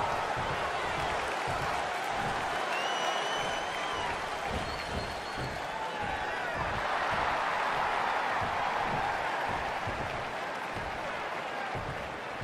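A wrestling crowd at a WWE NXT show claps and cheers in a sustained, steady wash of applause filling the arena, with a commentator's voice running over it.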